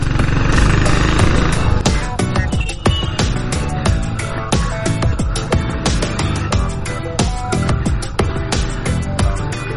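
A 100cc motorcycle fitted with Dolfin tyres is ridden on a rough road, giving a constant loud rumble with wind noise. Frequent sharp knocks and rattles come from the bumps.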